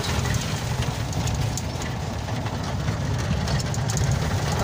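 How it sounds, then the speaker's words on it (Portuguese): A Volkswagen Beetle engine fitted in a stripped-down vehicle idles steadily up close, a continuous low rumble with a rough, uneven texture and no talking. "O motor dele é motor de Fusca"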